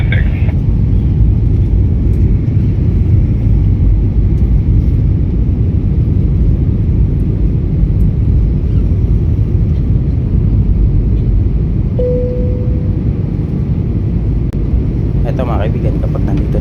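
Steady low broadband drone inside an Air Asia airplane cabin on a rainy night flight from Iloilo descending toward Manila, constant and fairly loud, with a brief faint tone partway through.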